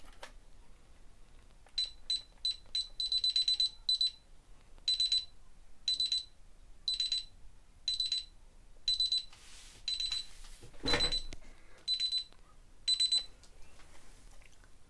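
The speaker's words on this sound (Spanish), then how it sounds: "Vamos a conectar la alarma nuevamente." A DSC security alarm panel beeps as it is armed, sounding a steady run of short, evenly spaced electronic beeps at close range, with a brief burst of other noise partway through.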